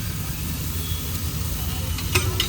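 Crushed garlic frying in oil for egg curry, stirred in a pan with a steady close sizzle and a few brief metallic scrapes near the end.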